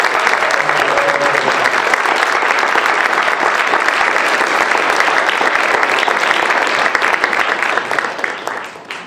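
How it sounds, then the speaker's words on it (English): Sustained applause from an audience at a district Toastmasters Table Topics contest as the contestants stand together on stage, dense and steady throughout before thinning in the final second. "While they're all on stage, one big round of applause."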